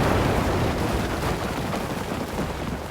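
Bombs explode in a video game in a dense, continuous barrage of booming blasts that rumble and overlap for about three seconds with no break.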